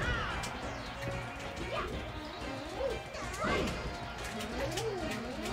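Repeated down smash attacks strike a shield in Super Smash Bros. Melee, sharp impact hits recurring every second or so amid sweeping game effects and busy background sound.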